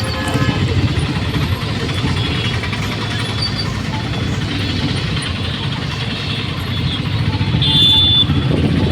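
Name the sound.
auto rickshaw ride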